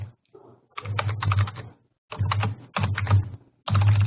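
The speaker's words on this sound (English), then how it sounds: "I'm going to type that in the chat." Typing on a computer keyboard, close and fairly loud, in several bursts of rapid clicking keystrokes separated by short pauses.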